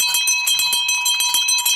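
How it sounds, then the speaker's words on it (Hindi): A kulfi vendor's small hand bell rings rapidly and continuously, with bright metallic clangs repeating in a quick, steady rhythm, close and fairly loud. "ये जो घंटी की आवाज सुनकर लइका मन बाहर निकल जाते हैं"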